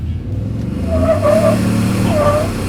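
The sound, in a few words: tuned 2017 Ford F150 EcoBoost truck accelerating hard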